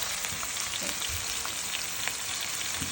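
A rack of lamb sears in a hot pan with a steady, close sizzle and crackle, small pops of fat scattered through the continuous frying hiss.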